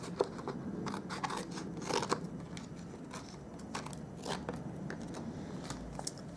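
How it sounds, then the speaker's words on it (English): Scissors snip through silver glimmer cardstock paper during card making, giving a run of short, close crisp cuts and crunchy rustles at an uneven pace. "And cut off a little bit more of my silver"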